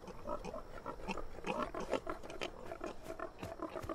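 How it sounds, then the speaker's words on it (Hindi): A group of pigs grunts and snorts in a rough, continuous, low rumble, heard faintly from a distance with overlapping irregular calls in an animated scene. "हमें उन सुअरों से बचने के लिए कुछ करना होगा।"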